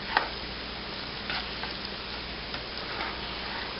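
Macaroni and cheese being gently stirred in a hot pot, heard as a soft, steady sizzle with a few faint scraping stirs, close and quiet, with no talking.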